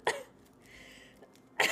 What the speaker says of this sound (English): Oh, God, I can't stop coughing.